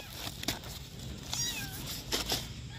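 Abandoned young kittens meowing, a few thin high mews scattered over a couple of seconds against a noisy outdoor background.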